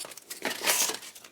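Crinkling and crumpling of packaging being pulled off shipped axe heads: brief, close, uneven rustles rising to a louder tearing crinkle midway.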